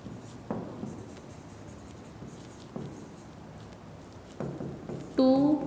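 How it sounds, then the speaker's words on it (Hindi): Chalk or pen tapping and scratching as prime numbers are written out, a few separate strokes at an even pace, ending in a short tonal beep. "तो हम पहले प्राइम नंबर लिख लेते हैं"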